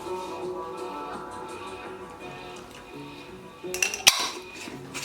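Vanilla and rum stirred into a panna cotta mixture with a utensil against a bowl, quiet and steady, ending in a few sharper clinks of metal on dish.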